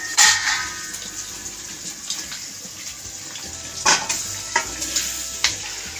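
Marinated chicken pieces going into a pan of fried onions and masala, with watery sizzling and stirring, a few sharp clatters of the utensil against the pan.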